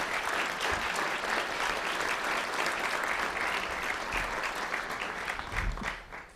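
A luncheon audience at the National Press Club breaks into sustained applause for introduced guests, a dense, continuous wash of clapping that holds steady and fades at the close.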